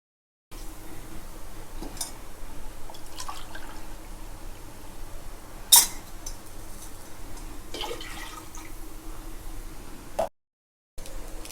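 Water poured into a pressure cooker for basmati rice, two cups for one cup of grain; a steady, close, splashing pour with one sharp clink partway through and no talk.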